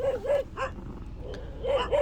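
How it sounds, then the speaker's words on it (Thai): A small, fierce Chihuahua barks in short bursts, two quick yaps at the start, one in the middle and two more at the end, close and sharp with faint background noise between. "มันเห่าเราอีกแล้วมันเห่าเราอีกแล้ว"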